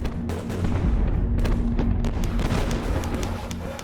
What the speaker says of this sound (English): Napoleon gathers every available gun to blast the Austrians, who fall back under a withering barrage.